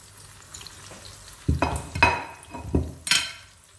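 Salt cod cooking with friarielli greens in a hot pan, a low sizzle broken by several bursts of frying and stirring clatter, close and fairly loud.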